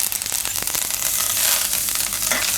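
Curry leaves and asafoetida sizzling hard in hot oil, a loud, dense spitting crackle that starts at once and holds steady for a couple of seconds.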